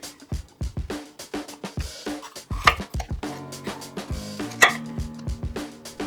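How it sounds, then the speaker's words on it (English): A knife slices a red capsicum into four big slices on a board, giving a string of crisp, close chopping taps and cuts with short pauses between them, alone with no talk. "Cut up a red capsicum into 4 big slices."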